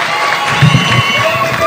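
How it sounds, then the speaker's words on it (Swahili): A crowd at a Kenyan government event with President William Ruto present cheers and claps for Cabinet Secretary Machogu. It is a brief swell of loud, mixed shouting and applause. "Tumpigie makofi Mheshimiwa CS Machogu."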